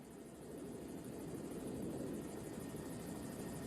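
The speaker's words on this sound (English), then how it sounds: "This helicopter pilot has some incredible aim." A helicopter passes overhead with a steady, loud rotor and engine roar that swells slightly after the first half second and then holds even, with no talking.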